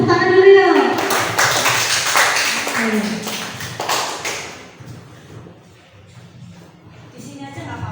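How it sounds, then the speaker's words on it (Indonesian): A classroom of children clapping their hands together after a student's answer in an Indonesian school lesson, a burst of claps mixed with voices and shuffling that fades out midway. "Boleh tepuk tangan dulu ya."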